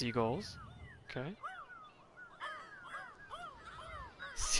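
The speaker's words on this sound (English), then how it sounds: "Seagulls." Seagulls calling in the video game Burly Men at Sea, a series of repeated harsh squawks and cries over a low background, with a person talking at times.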